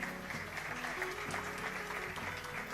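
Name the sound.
applause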